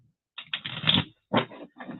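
Tarot cards being shuffled by hand, a few quick riffling bursts separated by short pauses, close and fairly clear against a quiet room.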